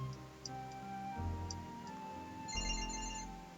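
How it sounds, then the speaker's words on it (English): A phone rings in the background of a city-building train game, with a faint repeating electronic chime over a steady musical backdrop, a brief burst of higher tones near the end. "Oh, that's my phone. Can you hear that?"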